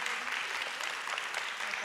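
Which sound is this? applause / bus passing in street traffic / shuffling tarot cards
applause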